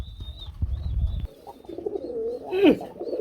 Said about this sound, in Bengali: এটা তো গুল্লা কবুতর।